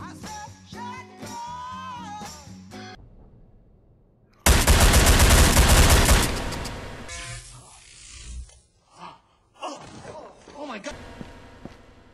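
Loud, dense burst of shotgun gunfire from the VR shooter game Ghost of Tabor, a roughly two-second blast that fades into chatter, with excited voices talking before and after.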